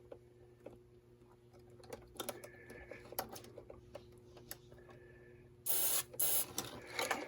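Cleaner sprayed from a can onto the top of a car's multifunction switch: a few short faint hisses, then two louder close bursts of spray near the end, over quiet background ticking.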